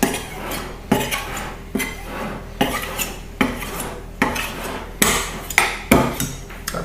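A knife trims excess shortcrust pastry off the sides of a dish for a bacon and leek quiche. It makes a regular series of sharp metallic taps and scrapes against the dish, roughly one every half second, close and clear.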